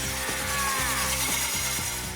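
A drill bores through painted glass in a steady, loud mechanical whir, with a regular grinding pulse repeating about every half second and no voices.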